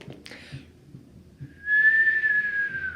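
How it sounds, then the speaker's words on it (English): A person whistles a single sustained, slightly rising note that stands out clearly above low background murmur, following a few brief sharp sounds. "That was a good whistle."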